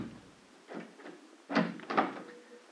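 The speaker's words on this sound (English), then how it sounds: "Excuse me if I bolt this door again." A door being bolted as a sound effect in a 1953 radio drama: a soft knock, then two sharp metallic clacks of the bolt sliding home, close and isolated in a quiet room.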